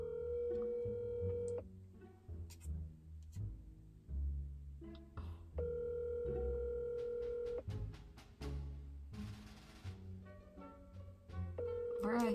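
A phone call rings out unanswered from inside a parked car, repeated electronic ringback tones and beeps in steady bursts, with people talking over them.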